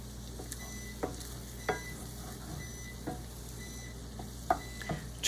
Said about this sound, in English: I'm adding the seasoning, stirring it around a little bit.